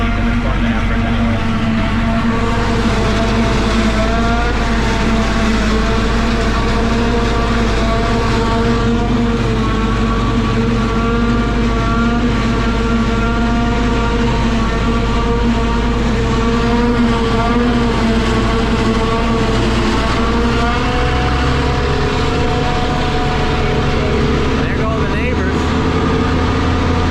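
A tractor runs with triple mowers attached during first-cut grass work, a steady loud engine drone with strong harmonic hum held throughout, continuous and close.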